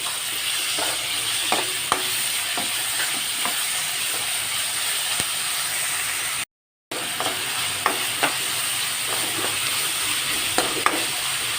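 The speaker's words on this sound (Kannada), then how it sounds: "ಈರುಳ್ಳಿ ಸ್ವಲ್ಪ ಬಾಡಿದ ನಂತರ ಟೊಮೆಟೊ ಹಾಕೊಳ್ತಾ ಇದ್ದೇನೆ ಹೆಚ್ಚಿಟ್ಕೊಂಡಿರುವಂತಹ ಟೊಮೆಟೊ ಹಾಕೊಳ್ತಾ ಇದ್ದೇನೆ" Chopped tomatoes and onions fry in a pan with a steady close sizzle and occasional soft stirring scrapes, broken by a brief silent gap midway, no talking.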